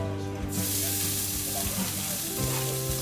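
Onions and green onions hit hot oil for white rice, bursting into a loud continuous sizzle that starts within the first half second and holds steady, close up with no talking.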